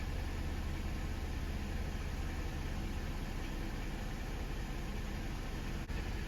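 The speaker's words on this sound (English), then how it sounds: "It says start the engine" A Mercedes-Benz ML350 W164 engine idles steadily with a constant low rumble and broadband hum, even and unchanging throughout, with no talking.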